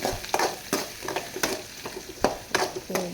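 Chopped ginger, green chili, garlic and curry leaves sauté in a pan for a mushroom stir-fry, a soft sizzle broken by repeated sharp spatula scrapes and stirring clatters at an uneven rhythm, close and fairly quiet, no talking.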